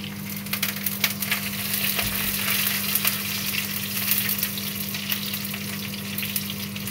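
Mustard seeds and shallots frying in hot oil, a steady dense crackling sizzle with scattered sharper pops throughout, close and continuous with no voices.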